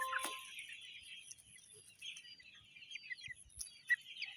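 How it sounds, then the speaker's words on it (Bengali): Colombian Brahma chickens with heavily feathered feet, kept near a railway station market in Ullapara, Sirajganj, clucking and calling faintly at a distance among scattered bird chirps, with no talk. "অরিজিনাল কলম্বিয়ান ব্রাহ্মা মুরগি।"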